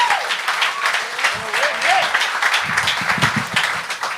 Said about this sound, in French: Est-ce qu'on peut faire un tonnerre d'applaudissements pour Nicolas Audet, s'il vous plaît?